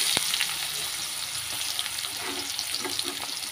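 Chopped onions frying in hot oil with dried chillies for a Bengali katla fish dish, a close, even sizzle and crackle with light stirring over a short stretch, no voices.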